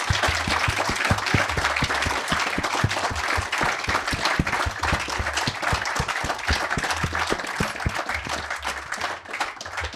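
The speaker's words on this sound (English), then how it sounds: "have a round of applause for our Soil Farmers of the Year" Audience applause at the Groundswell 2024 farming festival for the Soil Farmers of the Year: a steady, dense patter of many hands clapping that carries evenly for the full ten seconds, with a faint low hum beneath.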